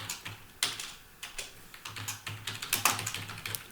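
Quick, close keystrokes on a computer keyboard during React coding, running in an uneven stream with a short pause early on and then a denser burst of clicks.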